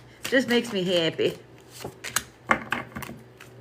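Tarot cards shuffled face down for a reading, giving soft riffling and flicking bursts in short clusters close up, with a voice heard in the first part.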